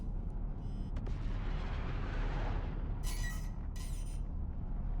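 Missiles launched at a ship in the space combat game Star Citizen, a steady loud rumbling roar of launch and thrust filling the clip, with two bright hissing bursts near the end.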